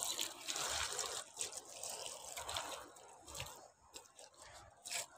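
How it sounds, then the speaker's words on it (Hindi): Water poured in small amounts onto wheat plants growing in pots in a home garden, heard as faint, irregular dripping and trickling with soft splashes over a few seconds, with no talking. "दोबारा से थोड़ा सा पानी भरा, ज़्यादा नहीं भरा।"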